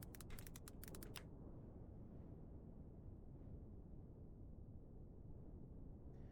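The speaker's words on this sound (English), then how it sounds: "Opera has a typing sound." A quick run of light, rapid keyboard clicks from the Opera browser's typing sound effect at the start, then only a steady low hum of background noise.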